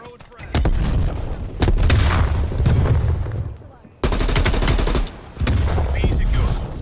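Explosions and rapid gunfire from a Call of Duty Black Ops Cold War multiplayer match, with heavy booming blasts in close succession, sharp onsets and loud sustained bursts of gunfire.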